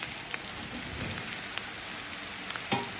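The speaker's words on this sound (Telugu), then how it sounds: "ఇప్పుడు దీనిలో మనము ఈ కట్ చేసుకున్న మష్రూమ్స్ వేసేసుకుందాం" Chopped mushrooms frying in a hot pan give a steady, moderate sizzle with a few soft stirring clicks, no voices over it.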